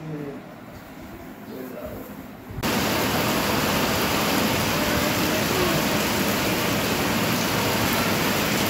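Steady heavy rain pours down outside a home, a dense, even roar that starts abruptly after a few seconds of quieter room sound with faint voices, then holds loud and unbroken.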